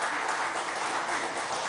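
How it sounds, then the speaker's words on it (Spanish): Studio audience applauding for Marlene Vanegas on a live Venezuelan television broadcast, a brief burst of steady dense clapping with no pauses. "que le demos un aplauso desde el corazón a la Caperucita Roja"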